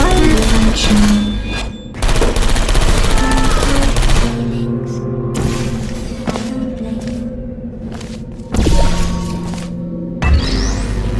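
Turret gunfire in the game Portal Revolution comes in loud, dense rattling bursts separated by brief gaps, with sharp thuds and impacts mixed in and a game voice heard partway through.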